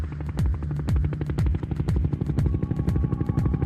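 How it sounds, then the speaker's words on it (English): A rescue helicopter carrying an intubated patient comes in to land at a Gold Coast hospital, its rotor throbbing in a steady, loud, rhythmic thump for several seconds with no voices. "There's a chopper about to land with an intubated patient."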